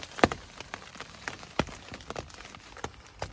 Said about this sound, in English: Now it's hailing out